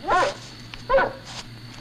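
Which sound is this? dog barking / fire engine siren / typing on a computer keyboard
dog barking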